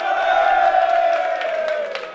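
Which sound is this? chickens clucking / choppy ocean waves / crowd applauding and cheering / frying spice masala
crowd applauding and cheering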